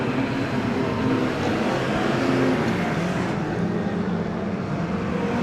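Streetstock race cars circling a dirt track, an anti-clockwise course, at the Battle of the Streetstocks night racing: a dense, continuous roar of several engines at steady high volume, with no clear individual passes standing out.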